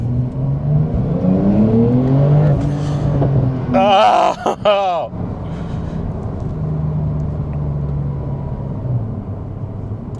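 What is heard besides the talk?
Porsche 911 Turbo S engine accelerating at full throttle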